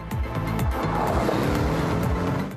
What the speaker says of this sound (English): Now it's time to try out the Porsche on a test track.